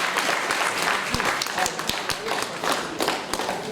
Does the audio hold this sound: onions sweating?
no